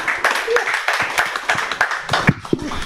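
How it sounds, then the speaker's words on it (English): Audience applause at a mental health event in Indonesia, near and fairly loud scattered clapping with a loose rhythm, with voices calling out over it. "Round of applause."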